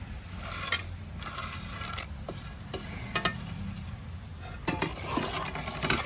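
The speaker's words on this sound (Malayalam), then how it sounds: "നല്ലപോലെ ഒന്ന് മിക്സ് ചെയ്യുക" A spoon works through banana payasam in a pot, with cashews, raisins and fried coconut mixed in. Soft, scattered scraping and a few faint clinks sit over a low steady background.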